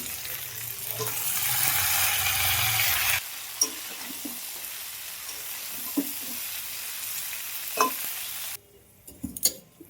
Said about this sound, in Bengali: আলুটা দিয়ে সুন্দর করে কষিয়ে নেব